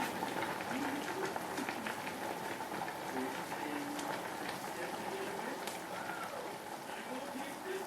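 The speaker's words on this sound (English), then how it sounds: "it's like really boiling now" A pot of leek and potato soup bubbling hard at a rolling boil, a steady dense fizzing and popping with faint voices murmuring underneath.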